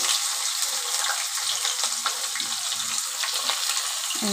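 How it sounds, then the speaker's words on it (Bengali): Chopped onions sizzle loudly in hot oil for cabbage and prawn curry, a dense continuous hiss and crackle heard up close with no one speaking. "এবার আমি পেঁয়াজ কুচিয়ে রেখেছি, সেই কুচনো পেঁয়াজটা আমি দিয়ে দিচ্ছি তেলের ওপরে"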